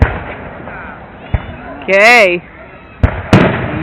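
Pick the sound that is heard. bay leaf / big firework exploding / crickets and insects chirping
big firework exploding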